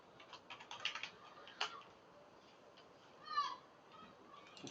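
Quiet typing on a computer keyboard, a scattered run of light key taps close by, with a brief faint tonal sound partway through.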